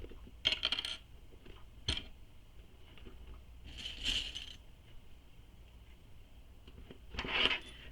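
Metal clips snap onto a fabric tote bag in a few sharp metallic clicks and jingles spread across several seconds, close but fairly quiet over a low background hum, with no talking.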